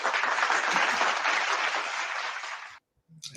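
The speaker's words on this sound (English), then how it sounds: "Let's give him a big round of applause, everybody." An audience applauds loudly to welcome a guest onto a talk show, a dense burst of clapping that tapers and then stops abruptly, followed by a brief faint voice.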